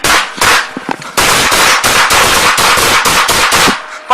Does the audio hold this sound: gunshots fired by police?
yes